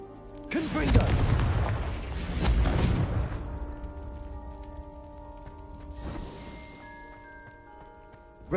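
Fire spells explode in a Harry Potter video game on PS4. Two heavy, rumbling booms come close together, followed by a lighter blast a few seconds later, each ringing out over a faint musical backdrop.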